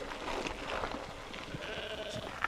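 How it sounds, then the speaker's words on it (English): Shorn sheep bleat along a hidden countryside trail, a few wavering calls over a rough, windy outdoor background, moderately distant with no talking. "Sheep."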